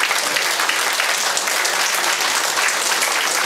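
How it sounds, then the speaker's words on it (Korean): Sustained applause from a ceremony audience at a Korean memorial society's inauguration of its new chairman, a dense, even roar of many hands clapping for several seconds without any speech. "큰 박수 보내주세요"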